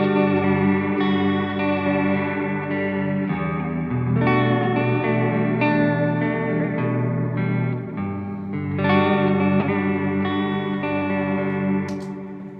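Sustained electric guitar chords through a tape echo with spring reverb, washed in warm repeating echoes and splashy reverb, playing continuously at a steady level.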